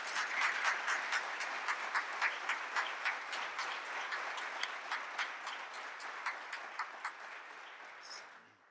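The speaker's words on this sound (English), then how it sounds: "Aletha, would you please stand and accept the applause of this audience for that piece?" Steady applause from a concert audience after a musical piece, dense clapping with a fairly even rhythm that carries on for several seconds before fading out at the end.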